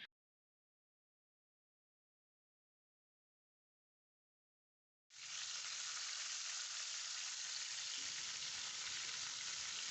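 Chicken pieces in masala on a high flame break into loud, steady sizzling and frying after about five seconds of silence, continuing to the end without talk.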